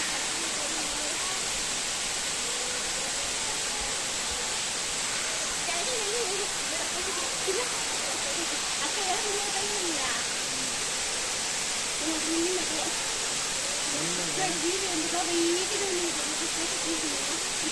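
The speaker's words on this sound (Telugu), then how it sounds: "ఇప్పుడిప్పుడు అని ఎదురు చూసిన జలపాతం వద్దకు వచ్చేసాం" Talakona waterfall near Tirupati roars as a constant, broadband rush of falling water, with faint voices murmuring beneath the steady noise.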